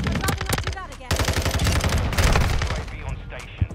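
Rapid automatic gunfire from the FSS Hurricane in Modern Warfare II, dense, close bursts of rounds filling nearly four seconds with a brief gap near the one-second mark and a sharp final shot.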